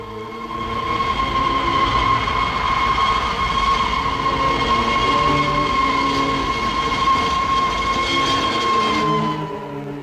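A train rumbles steadily throughout, with a sustained tonal hum and metallic drone, fading slightly near the end.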